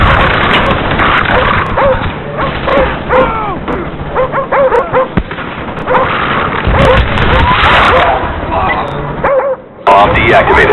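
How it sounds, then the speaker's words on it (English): Several attack dogs in Call of Duty: Black Ops bark, yip and whimper continuously over dense game noise and muffled voices, the barking loud and close throughout. "Friendly dogs inbound."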